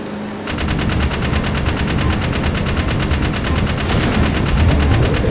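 Vehicle-mounted gun firing in the video game Jak 3: a loud, continuous rapid burst of evenly spaced shots that starts abruptly and holds steady to the end.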